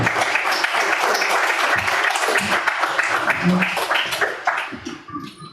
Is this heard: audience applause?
yes